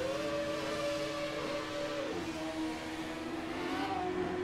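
Race car engine droning steadily in the pit lane of a racing video game, a sustained tone that drops in pitch partway through and then holds, loud and close throughout.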